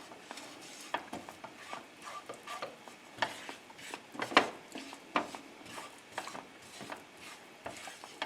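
Flour and butter stirred in a pan for a cauliflower bake, with repeated soft scraping strokes and light clinks of a utensil against the pan, fairly quiet and close.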